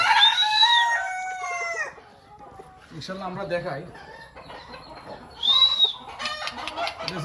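Foreign-breed chickens at a farm in Chauddagram, Cumilla, including a Ko Shamo and a white Turkish Sultan, cluck and crow loudly, with a long crow at the start and another midway, while someone talks between the calls.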